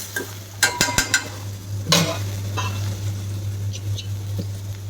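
Carrots being stirred as they fry in a pan with a little ginger paste: a few quick scrapes and clinks of a utensil against the pan, then a soft steady sizzle underneath, close by.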